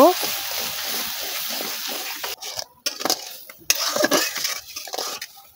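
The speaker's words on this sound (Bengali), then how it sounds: "এগুলো দিয়ে আমি ভালো মতো মশলাগুলো কষিয়ে নেব" Dry spices with salt, turmeric and chilli powder stirred in a pot for a broiler chicken curry, with metal clanks and scraping of a spoon against the pot, a faint sizzle and a brief cough or vocal sound.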